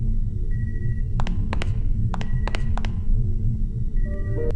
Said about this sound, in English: The game is filled with ambient sounds, computer beeps, the quiet humming of medical equipment.